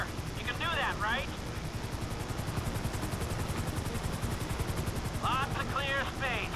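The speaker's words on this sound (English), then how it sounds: "Just hold the chopper here" Helicopter hovering in the video game Grand Theft Auto V, a steady loud rotor thump and engine drone throughout, with brief electronic chirping bursts near the start and end.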